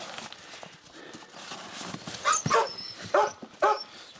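Husky puppies yelp and bark in a few short, high bursts close by, with soft shuffling and rustling in between.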